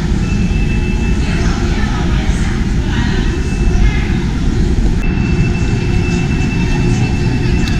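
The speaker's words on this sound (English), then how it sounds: "So this is our fast train in China." Steady low rumble of a Chinese high-speed train at a station platform on the Chengdu to Xi'an route, with a faint high whine and murmured voices in the background.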